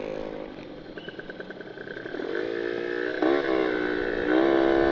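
A Kawasaki Ninja two-stroke motorcycle with a carburetor tuning issue revs while riding, engine pitch rising and falling through several throttle blips and building to a louder, sustained high-rev drone, heard up close without talk.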